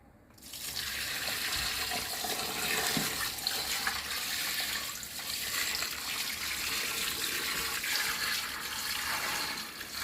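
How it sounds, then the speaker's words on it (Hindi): Water poured into a cooking pot holding oil, bong and paya trotters for a bong paya stew: a steady, loud rushing splash that starts abruptly and runs unbroken for about ten seconds, with no talk. "ऑयल शामिल करने के बाद अब हम इसमें शामिल करने लगे हैं पानी"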